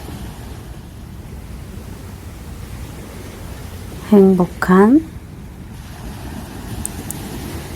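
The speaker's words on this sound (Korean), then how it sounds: "힐링도 하시고 파도 소리도 들어보시고" Morning surf rolls steadily onto the beach at Yeongildae, Pohang, a continuous broad wash of waves that fills the whole stretch, briefly joined by a short burst of human speech partway through.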